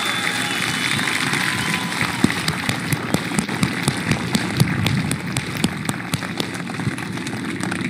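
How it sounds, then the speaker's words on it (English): An audience at a SpaceX Starship update presentation gives a round of applause, dense steady clapping with scattered sharper claps, with a voice talking over it. "big round of applause"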